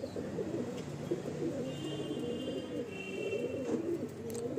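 Mundi Sada pigeons cooing close by in a loft, soft repeated throaty coos over a low room murmur, with a brief faint chirp partway through.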